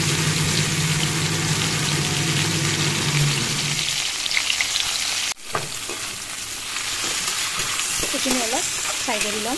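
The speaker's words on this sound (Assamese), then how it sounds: "এইখিনি অলপ ফ্ৰাই কৰি ল'ম" Spiny gourd frying in a home pan, a steady broadband sizzle running throughout, with a brief dip midway and a few faint tonal squeaks near the end, probably utensil scraping, with no talk.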